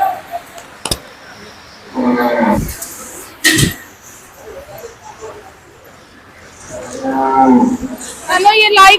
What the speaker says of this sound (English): you like cows, baby?